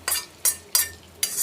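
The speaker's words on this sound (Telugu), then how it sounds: "చూసారండి చిటపట్టలు ఆడుతోంది" Hot tempering (popu) spits and crackles in a pan while cooking a raw banana and banana-stem curry, four sharp bright sputtering bursts coming at a steady rhythm, close and fairly loud.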